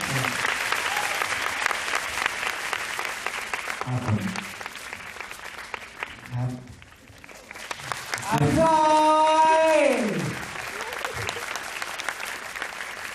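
Applause from a Thai dating-show studio audience, with someone talking at the start and end and a short loud musical sting with a sliding tone partway through.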